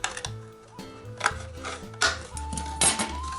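Scissors cut through a plastic yogurt pot in a series of short crisp snips and crinkles, close and clear, with no voices over them.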